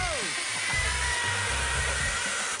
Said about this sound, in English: I could plunge cut with this because it has a circular blade.